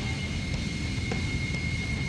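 A helicopter flies at speed in the video game Action Taimanin, giving a steady, loud engine and rotor drone with faint regular pulses throughout and no voices.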